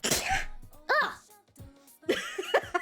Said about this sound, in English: You guys get a free sneeze.